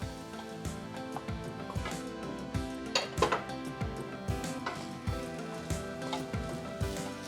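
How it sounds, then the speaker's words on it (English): Cold rice tossed with curry powder in a frying pan: a steady low sizzle broken by rhythmic metallic clinks and scrapes of a utensil against the pan, close and continuous. "we're frying this rice"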